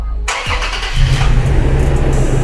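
A 2021 Toyota Tacoma TRD Pro engine starts up close, with a sharp starter crank followed by the engine catching into a loud, steady idle.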